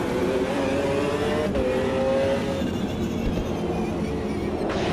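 Race car engines in the Automobilista 2 sim racing game, with a Dodge Viper among the cars: loud, continuous engine roar with shifting revs and a couple of abrupt gear-change dips throughout.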